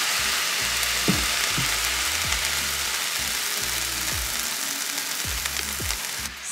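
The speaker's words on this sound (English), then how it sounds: "I am just sauteing the onions with my vegetable broth until it cooks down a little bit." Onions sauteing in vegetable broth in a pan, giving a steady loud sizzle throughout, with soft low knocks from stirring.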